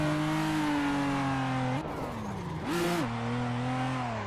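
A drift car's engine revs hard and steady, dips briefly around a gear change into third, then climbs again with a loud continuous roar, close and without talk.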